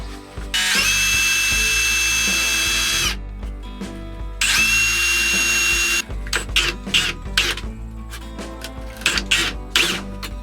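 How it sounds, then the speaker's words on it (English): Power drill countersinking screw holes in cedar boards for a van wall: two long, loud, steady whining runs of the bit, each about two to three seconds, then a series of short, choppy bursts and bumps. "you're gonna want to countersink these, or else your screws are gonna pop up a little bit"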